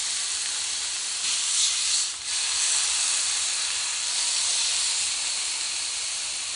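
Meat searing in a hot pan for a weeknight dinner, a steady broad hiss of frying fat close by, swelling briefly midway, with no talking.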